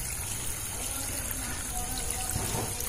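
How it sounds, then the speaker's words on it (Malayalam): Pond water pumped by a submersible pump pours into a bucket filter for an alligator pond aquaponics setup, giving a steady, continuous rush and trickle of flowing water at close range. "സബ്മേഴ്സൽ പമ്പ് ഓണാക്കി കഴിഞ്ഞപ്പോൾ വെള്ളം വരുന്നതല്ലേ, ഇത് കുളത്തിൽ നിന്നുള്ള വെള്ളമാണ് ഇങ്ങോട്ട് വന്നോണ്ടിരിക്കുന്നത്."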